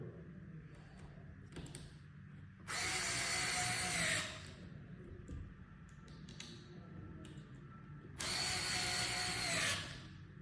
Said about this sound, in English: Here I use an electric screwdriver, but it works with a normal screwdriver.